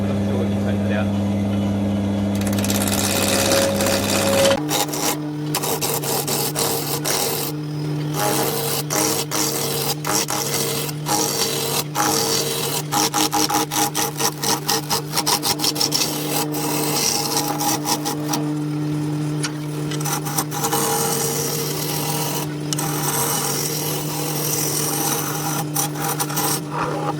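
Camphor laurel wood being rounded into a cup on a lathe: a steady motor hum, then a continuous scraping rasp of the gouge against the spinning wood.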